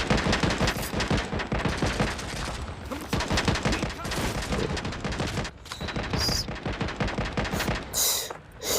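Sustained automatic gunfire in the shooter game World War Heroes, dense rapid bursts of shots nearly without pause, with a few short gaps near the end, while someone talks over the shooting.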